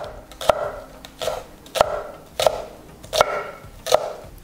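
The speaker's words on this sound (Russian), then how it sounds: "Прям с огорода зеленый лучок. Нарезаем довольно мелко." A knife finely chopping fresh garden green onions on a board, six sharp regular knocks spaced under a second apart, close and clear with no talk.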